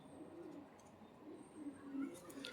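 Pigeons offered for sale coo nearby in low, soft, throaty bursts that come a few times, faint against a quiet background.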